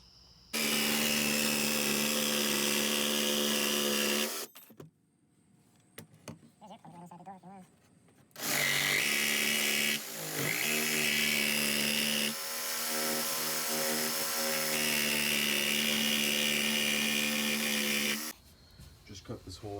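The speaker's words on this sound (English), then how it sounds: "Just cut this hole out of the wheel well here for the diesel heater" A power tool cuts a hole through the wheel well of a step van for a diesel heater, two long loud whining bursts separated by quieter handling noises, with a final brief burst.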